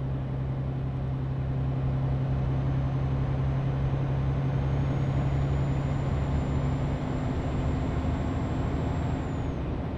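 Heavy truck in Euro Truck Simulator rolls along at low gear with a steady, loud engine drone and a faint rising whine, continuous and unbroken, no voices over it.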